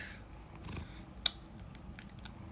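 A cat sitting on a table purrs softly with a low, steady rumble, quiet and close, broken once by a brief sharp click.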